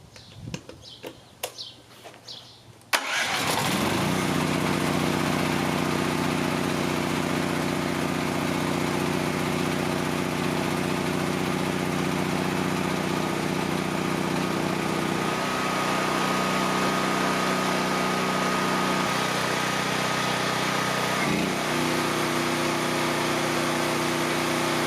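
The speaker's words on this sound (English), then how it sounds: "I started the generator first, then turned on one power strip after the other." A WEN DF1100T dual-fuel 11,000-watt generator starts after a few seconds of clatter and then runs steadily under load, a loud continuous engine drone with a constant hum that shifts slightly in pitch as electrical load changes.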